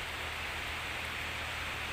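Rain pours steadily in the countryside of Ubon, Thailand, giving a dense, unbroken wash of hissing noise at a constant level, with no talking.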